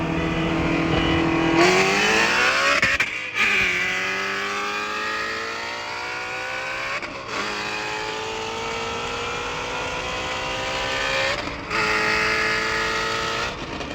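Car engine and exhaust in stock form, before a dyno tune and exhaust work, revving hard through several rising pulls with gear changes, loud and sustained, with no talking.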